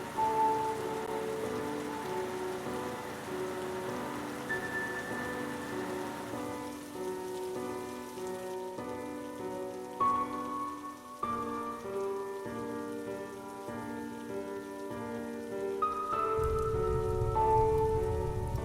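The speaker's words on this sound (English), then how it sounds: "The weather was getting pretty chilly and the rain began to pour." Steady rain pours down with a dense, constant patter, while soft music plays throughout underneath it.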